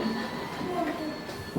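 Train rumble of an arriving express at a station platform, a steady mid-level roar with faint rail clatter running the whole short stretch, no voices over it.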